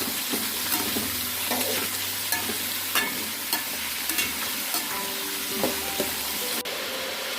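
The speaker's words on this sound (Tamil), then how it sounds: "இப்போ நல்லா அதை மிக்ஸ் பண்ணி விடலாம்." Chopped chayote sautés in a pan while a spoon stirs it, a steady close sizzle with repeated scraping strokes against the pan and no voices.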